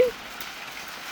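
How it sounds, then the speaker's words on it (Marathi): Heavy monsoon rain pours down on a forested roadside near Dategad Fort during a motorcycle ride. It makes a steady, dense hiss, with a short voice at the very start. "एकदम असा पाऊस जोरात पडायला लागलाय."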